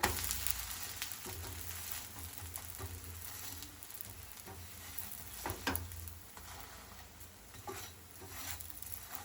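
Ragi dosa batter cooking on a hot pan, a steady soft sizzle with faint crackle running throughout, close and moderately quiet, with occasional light scraping taps of a utensil.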